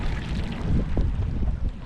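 Gusty wind roaring across the microphone at Antero Reservoir while fishing, a steady low rumble with buffeting swells throughout and no talk.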